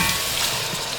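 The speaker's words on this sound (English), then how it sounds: "And now you want to go ahead and put in that coconut milk." Coconut milk poured into a pot of Haitian rice and pigeon peas, a brief loud hiss and sizzle as the liquid hits the hot pot.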